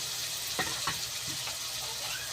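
Ginger paste and tomatoes frying in a pan, a soft continuous sizzle with a few scraping stirs near the start, fairly quiet and with no voices.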